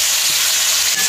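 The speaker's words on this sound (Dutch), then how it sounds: "Even die kip erin bakken." Steady, loud sizzling of chicken frying in a hot pan, a continuous hiss with no voices.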